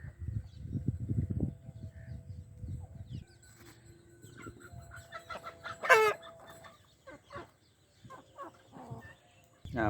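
Hens cluck and squawk nearby, with one loud sharp call partway through, over rustling and low background noise; a faint voice is present.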